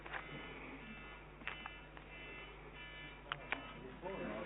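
A mobile phone in a council planning committee meeting room, giving several short, sharp beeps at intervals over a quiet, low room hum.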